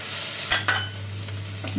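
Onion and garlic fry in a pan with a steady, close hiss and sizzle, broken by a couple of brief stirring scrapes, no voices.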